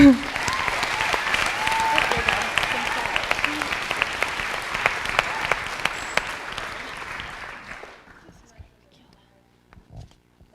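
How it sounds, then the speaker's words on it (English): Audience applause greeting someone speaker brought onstage at a design talk, a dense steady clapping from a large crowd that holds for about eight seconds, then fades out into near silence. "Can we get her a big a round of applause?"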